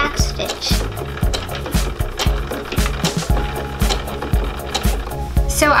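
A sewing machine stitches a dress, running in short loud mechanical bursts with pauses between them for back stitching, while someone talks over it.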